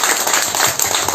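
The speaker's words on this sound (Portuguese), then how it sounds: "Uma salva de palmas desse pessoal maravilhoso." Audience applause at a book launch at a cultural centre, a dense, loud burst of many hands clapping close together, filling the whole short moment with no talk.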